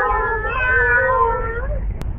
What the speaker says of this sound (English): Cats here, cats there, cats and kittens everywhere.